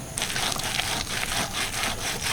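Palm fruit seeds are rubbed by hand to work out the pulp, giving a continuous wet, rasping friction sound with rhythmic strokes, close up and without talk.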